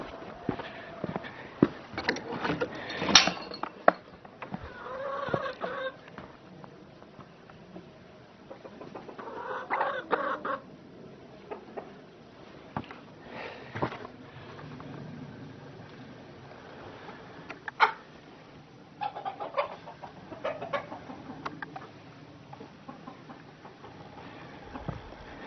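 Hens cluck and murmur in irregular bursts, close by on a ranch on a winter morning, with occasional louder squawks standing out over a quiet background.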